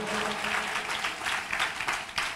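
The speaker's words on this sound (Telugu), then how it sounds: "చప్పట్లు కొట్టండి గట్టిగా" A church congregation at a Pentecostal Sunday service claps hands together, a dense, steady wash of clapping at moderate level with a sharper clap near the end.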